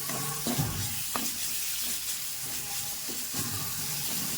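Thickly chopped vegetables fry in a pan for a dhaba-style paneer masala, making a continuous sizzling hiss. Occasional soft clinks and scraping sounds come through, with no voices.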